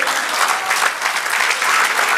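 A church congregation claps steadily and densely for a couple of seconds, a loud, sustained wash of applause with no voices standing out.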